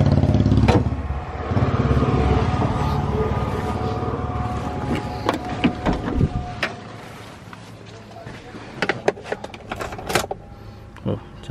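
A Toyota Innova engine cold-starting after sitting about four months runs as a loud, steady rumble with wind noise for several seconds. It then drops to a quieter idle with scattered clicks and clatter, and voices sound faintly in the background.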